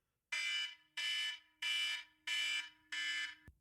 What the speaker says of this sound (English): you can hear that alarm at your end, Travis?